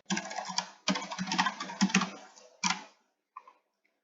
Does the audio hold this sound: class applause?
no